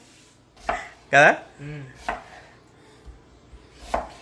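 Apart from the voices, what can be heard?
chopping onions with a knife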